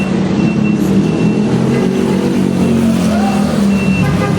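Street traffic with trucks rumbles loud and close, a dense engine drone with faint reversing beeps and brief voices in the mix.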